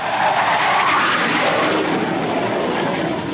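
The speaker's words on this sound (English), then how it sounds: "Canada's all-time favorite aircraft, the F-104, makes this sound" A Lockheed F-104 Starfighter jet roars past with a loud, broad rushing engine noise that swells and shifts as it passes, with no talking.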